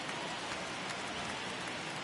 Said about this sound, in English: I don't know how much more rain this field can take